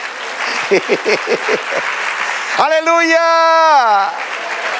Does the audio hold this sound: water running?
no